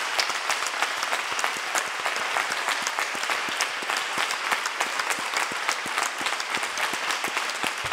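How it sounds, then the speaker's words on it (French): Sustained applause from a large audience at a national congress of the FNADEPA federation, dense steady clapping filling the hall throughout, with no speech over it. "je voudrais qu'on les applaudisse"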